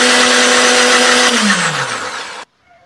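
An electric blender grinds a spice paste of pepper, coriander, garlic, shallots, ginger and turmeric with a little water, a loud steady whirring roar whose pitch drops as the motor winds down before stopping.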